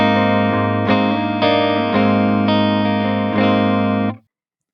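Distorted electric guitar chord through an ENGL Steve Morse amp, rich and sustained with several light re-strums, ringing steadily for around four seconds and then stopping abruptly.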